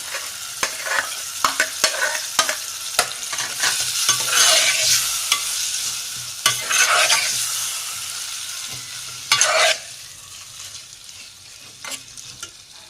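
Potato pieces stirred into a frying kachori curry in a pan, with a soft sizzle underneath and repeated scraping, clattering strokes of the spoon, louder bursts coming every few seconds.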